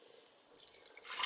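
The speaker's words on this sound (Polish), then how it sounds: "Przez taką drobną siatkę, oczywiście cały barsz nam się pięknie jeszcze oczyści" Beetroot borscht broth, made from beets steeped in one to two litres of water, poured gently through a fine mesh sieve, giving a soft, steady trickling and splashing of liquid that swells midway and holds on its own without talk.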